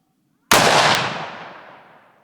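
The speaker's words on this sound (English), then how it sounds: "Just decked this little buck with the 308 at about 100 metres down through all this timber." A .308 rifle fires once at a fallow deer buck about 100 metres away through timber: one sharp, loud crack followed by a long rolling echo that fades over nearly two seconds.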